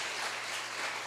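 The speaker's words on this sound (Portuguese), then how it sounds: "Você pode aplaudir ao Senhor?" A church congregation applauds at a Sunday evening family service, a steady dense wash of clapping lasting about a second with no voices over it.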